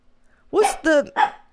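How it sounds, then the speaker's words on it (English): A small dog barks three times in quick succession, close and fairly loud, indoors, with a quiet hum between the barks. "you're going to bark in my lap"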